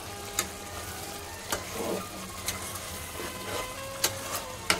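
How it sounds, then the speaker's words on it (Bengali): Mutton sautéing in a pan makes a steady, soft sizzle, with light scraping and stirring clicks at irregular moments throughout. "কত সুন্দর মাংসটা কষে যাচ্ছে"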